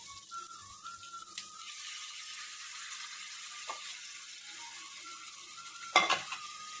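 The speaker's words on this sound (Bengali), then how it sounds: "গরম জল দিয়েছি বন্ধুরা।" Hot water hits a pan of meat curry on the stove, giving a steady, fairly quiet sizzle and hiss throughout, with a brief louder burst of bubbling near the end.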